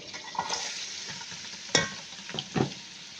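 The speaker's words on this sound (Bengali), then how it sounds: "পেঁয়াজগুলো ফ্রাই হইতেছে, এই যে দেখেন" Sliced onions frying in hot oil for chicken biryani give a steady close sizzle, broken by a few scraping stirs of the spoon against the pan.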